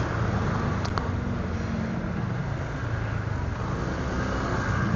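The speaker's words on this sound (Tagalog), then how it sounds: "Grabe traffic dito." Steady road traffic rumble on Marcos Highway in Antipolo, a continuous low engine and tire drone with a brief higher hiss near the start, heard from inside or beside a moving vehicle.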